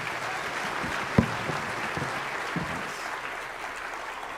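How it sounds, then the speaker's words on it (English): Congregation applause during a church service, a steady bed of many hands clapping at moderate level, with one sharp thump standing out early and the clapping continuing evenly afterward. "let's give the Chanceys a round of applause."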